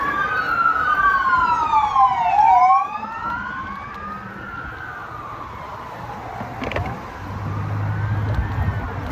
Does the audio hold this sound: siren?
yes